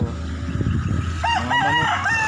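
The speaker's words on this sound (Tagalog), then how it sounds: "Mga manok." A rooster crows loudly and close by in a few rising, wavering calls, with scattered clucking and farmyard noise underneath.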